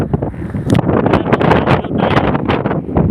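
Strong wind at Panguil Bridge in Tangub City buffets the microphone in loud, continuous gusts and rumbles throughout, with no voices heard.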